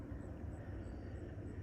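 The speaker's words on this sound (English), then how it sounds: "It's an interesting looking helicopter, isn't it? Why is it flying around back there in the corn?" A black helicopter with a big light on its side flies around over a corn field and swamp, giving a steady, continuous engine rumble at moderate distance with no talking.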